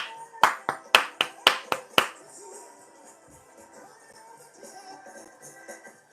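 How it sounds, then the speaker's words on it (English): An audience claps in a church service: about seven sharp, evenly spaced claps ring out close and loud, then fade into softer scattered clapping and faint room noise. "Come on, somebody clap your hands."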